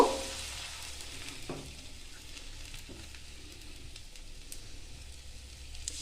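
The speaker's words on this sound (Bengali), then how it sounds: "তেলটা একটু গরম হতেই আমি ব্যাটারটা এর মধ্যে দিয়ে দেব" Patishapta pitha batter goes into lightly oiled hot pan and sizzles softly, a faint, steady hiss with a few small scraping touches, fairly quiet throughout.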